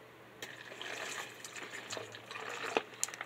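A 32-ounce bottle of Gatorade Arctic Blitz poured into a container, a quiet close-up trickle and gurgle that starts after a brief pause and splashes unevenly to the end.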